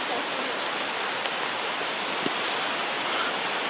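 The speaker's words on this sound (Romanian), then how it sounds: "Mai găsit o cascadă?" A forest waterfall near Busteni roars as a steady, dense wash of falling water, close and continuous with no pauses.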